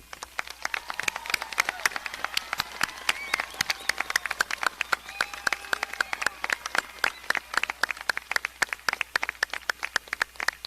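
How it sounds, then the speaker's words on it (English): Graduates at a 2021 high school graduation receive a round of applause, a steady patter of many handclaps carrying on without a break at moderate distance, with no talking over it. "let's give them a round of applause"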